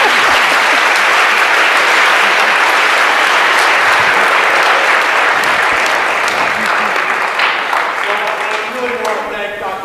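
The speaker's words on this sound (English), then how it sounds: "Well, you can clap for me" Audience applause follows a talk on technology, innovation and diversity, with dense steady clapping filling the room near and loud, then thinning slightly as a voice begins speaking over the end.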